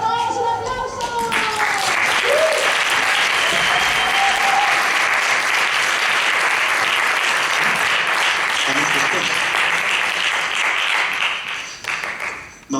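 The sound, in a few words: audience applause at festival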